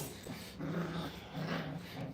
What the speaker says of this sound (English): They're seeing who can growl the loudest.